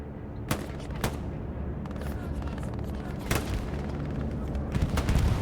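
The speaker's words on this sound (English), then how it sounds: "Got a bombing run coming through here." Explosions and heavy gunfire from a bombing run in Hell Let Loose, with sharp blasts landing near the start and middle over a dense, constant rumble of battlefield fire.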